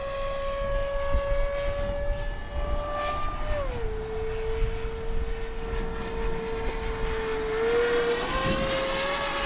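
A Kavan Skyfox L-39 RC jet with an outrunner electric motor flies past, its steady high motor whine dropping in pitch partway through and then rising again, with the wind rushing throughout.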